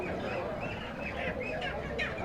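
Chickens cluck and squawk in a crowded poultry market area of Bidhan Market, Siliguri, their short calls repeating amid a dense, noisy background hum of the busy market.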